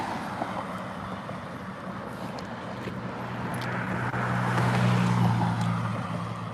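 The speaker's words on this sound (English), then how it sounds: "right now, a lot of cars passing by" Steady traffic rolling along a nearby road, a continuous broadband rush of passing cars that swells louder toward the middle and end, with no talking.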